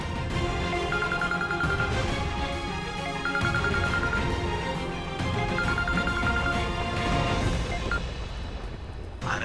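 A telephone rings in three short repeated trilling bursts, riding over a loud dramatic music score in a television drama scene.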